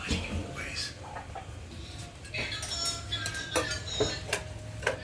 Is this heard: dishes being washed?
yes